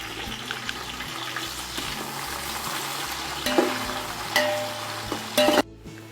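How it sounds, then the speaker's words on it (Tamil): Onions and mint sautéing in a pan, a steady soft sizzle with occasional scraping stirs and a few louder clinks near the end, no one talking. "நான் வெங்காயத்தோடு எப்போவுமே புதினாவை வதக்கிடுவேங்க அதனால் இப்போது வெங்காயத்தோடையே புதினாவை சேர்க்குறேன்"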